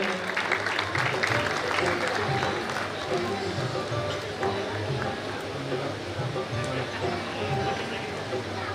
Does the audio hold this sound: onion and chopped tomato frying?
no